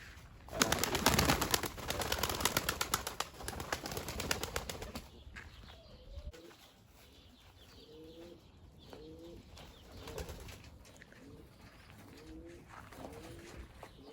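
Pigeons coo in repeated soft, low phrases after a burst of flapping wings, calm and close, with no talking.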